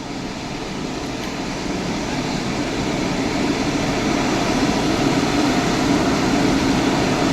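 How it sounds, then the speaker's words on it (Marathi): An Ethiopian airliner at Mumbai international airport near Kurla gives a faint, distant, steady jet engine rumble and whoosh, slowly swelling over several seconds, heard alone. "हे पण परदेशातीलच विमान आहे."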